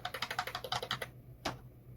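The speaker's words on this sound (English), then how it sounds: "So I'll type 8 A's" Quick, even keystrokes rattle on a computer keyboard, a run of about a dozen taps typing the same letter repeatedly, close and clear, then a single firmer key press near the end.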